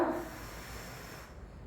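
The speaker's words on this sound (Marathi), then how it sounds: "मोठा श्वास घ्यायचा" A deep breath drawn in during a home waist and belly exercise routine, a soft close airy inhale that fades out quickly.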